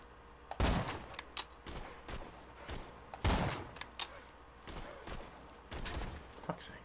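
Sniper rifle shots in Borderlands 2 sound as a few heavy, booming reports spaced seconds apart, mixed with lighter game impacts and thuds, moderately loud.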